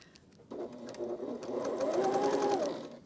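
Sewing machine stitching quilt pieces, a close steady whirring hum with rapid needle chatter that starts abruptly and runs continuously, rising slightly in pitch.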